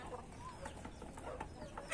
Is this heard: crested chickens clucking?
yes